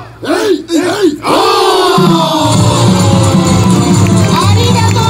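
A festival crowd at a samurai and ninja event in Odaka Green Park chants a rhythmic battle cry in loud, repeated group shouts, then holds a sustained, massed roar close by.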